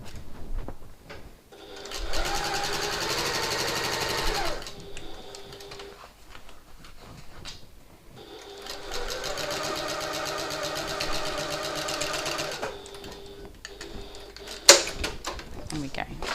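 A domestic sewing machine back-stitches and then runs around the corner of a hobo bag's main panel, two long steady whirring bursts separated by a pause, with a sharp click near the end.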